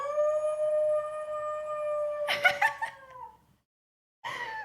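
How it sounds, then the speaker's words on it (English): A dog howling in an apartment, one long sustained tonal howl that breaks into short wavering yelps before stopping, then a brief final howl, moderately close and alone. "He was howling when he was home."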